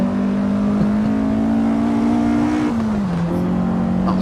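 A car engine revving hard under acceleration, a loud, sustained droning tone that climbs slowly and then dips, heard close and alone with no talking.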